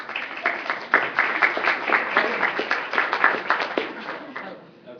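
An audience at a general assembly meeting claps for a newly introduced deputy, a moderate round of applause building and then fading out over about five seconds, with a voice talking over it.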